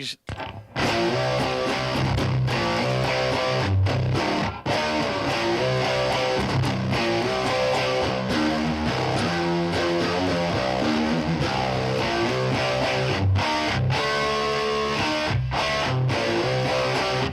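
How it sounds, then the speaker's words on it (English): Heavily distorted electric guitar playing continuously with dense, saturated chords and a few brief pauses, loud and close. "And then you get a distortion pedal."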